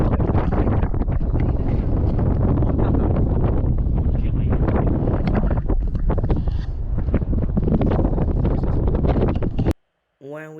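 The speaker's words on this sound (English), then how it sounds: "The wind was really strong on the cable ride." Strong wind buffets the microphone during a cable car ride into the clouds, a loud, roaring, continuous rush that cuts out abruptly near the end.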